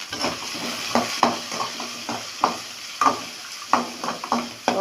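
Onions, green chili, garlic and curry leaves stirred in a frying pan for a beetroot-carrot stir-fry, with repeated spatula scrapes and taps against the pan over a steady oil sizzle, close and fairly loud.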